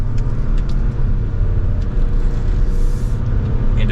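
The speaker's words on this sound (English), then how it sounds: "but now let's give it some gas." Interior of a 2024 Buick Encore GX with its 1.3-liter three-cylinder engine accelerating, a loud steady low drone of engine and road noise with faint high whines on top.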